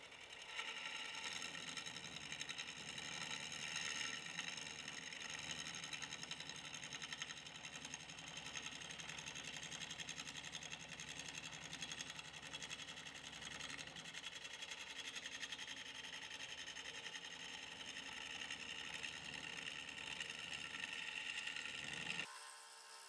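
Wood lathe spinning a turning blank in a workshop, a steady faint whirring hum with a fine rhythmic texture that runs continuously before cutting off abruptly at the end.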